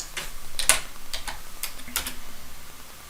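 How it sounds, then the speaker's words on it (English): Keystrokes on a computer keyboard while entering commands at a router's console prompt, a quick run of separate clicks with a few sharper taps, fairly close and moderately quiet, with no voice. "so we're going to type no"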